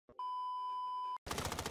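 A single steady censor beep, a pure tone held for about a second, loud and isolated between brief gaps, set in a Warzone gaming session.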